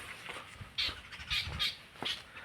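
Birds squawk and chirp in forest trees, a few harsh, crow-like calls at moderate distance over a faint, steady outdoor background.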